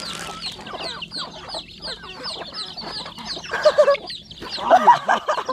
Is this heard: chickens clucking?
yes